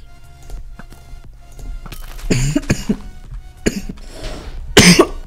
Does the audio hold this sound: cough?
yes